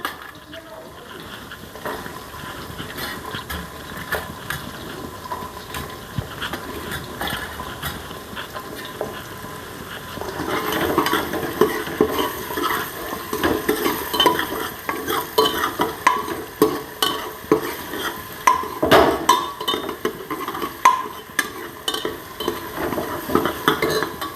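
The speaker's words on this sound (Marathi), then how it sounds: "ते कांदे चांगले तळले" Two chopped onions fry in hot oil in a pan, a soft sizzle under light stirring that grows louder and busier midway, with spoon scrapes and clinks against the pan.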